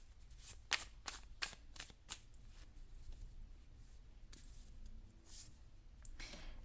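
Oracle cards for a numerology reading being shuffled and drawn, a quick run of crisp riffling flicks early on followed by softer scattered card slides and taps, close and fairly quiet, with no talking.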